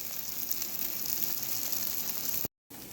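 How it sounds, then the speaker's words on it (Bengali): Ground cumin and Kashmiri chili powder sizzle in a hot pan while being cooked for katla fish curry, a steady hissing crackle close by that cuts out briefly near the end. "এবার এই মশলাটাকে ভালো করে কষিয়ে নেব।"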